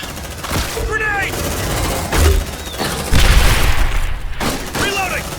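A grenade detonates in the Aliens Dark Descent video game, a loud boom cutting through sustained gunfire and shouted voices amid a chaotic firefight.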